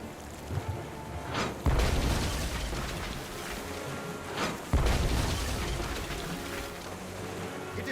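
Two heavy cannon blasts in Tales of Monkey Island, each a sharp booming thump a few seconds apart, set against a steady rain-like wash of background ambience.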